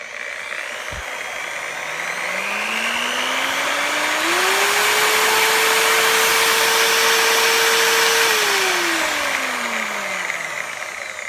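A Drill Master 7-inch 10 amp variable speed rotary polisher spins up from a low whine, rises in pitch to a steady high-speed hum held for several seconds, then winds back down, a loud continuous motor drone with no talking.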